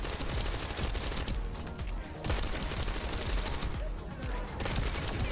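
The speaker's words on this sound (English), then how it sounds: "Feels good for running and gunning. It feels like a little John Wick pistol." Rapid pistol gunfire in the shooter game The First Descendant, with sharp shots fired in quick continuous bursts, loud and close, pausing briefly before the firing resumes.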